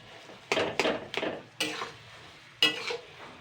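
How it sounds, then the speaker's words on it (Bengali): Taro leaf curry stirred in a pan, giving five separate scraping, clattering strokes that are fairly close and distinct, with a faint sizzle underneath and no voices. "এবার এটা দিয়ে কিন্তু সুন্দর করে নাড়তে হবে।"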